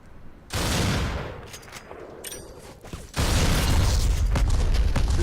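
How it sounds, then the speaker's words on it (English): A loud explosion goes off in the video game Black, a sudden broad blast that jumps up and holds as a dense, roaring wall of noise, with battle rumble and gunfire-like crackle around it. "Oh, explosion behind me."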